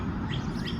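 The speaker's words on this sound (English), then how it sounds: "You can hear the birds." Birds in a yard chirp with a couple of quick, bright tweets over a steady outdoor background hum, over within a second.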